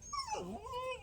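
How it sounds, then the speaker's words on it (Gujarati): A dog whimpers in one brief, rising-then-falling whine, quiet and close, with no talk over it. "જો કૂતરા આવી ગયા"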